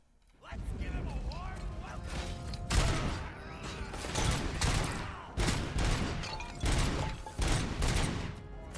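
SMG fire in a video game: dense, rapid bursts of gunshots come in repeated strings, loud and close, with short gaps between volleys.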